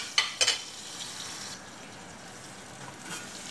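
Onions for chicken curry frying in a pan: a quiet, steady sizzle with a couple of sharp metallic clinks of a utensil near the start, no voices.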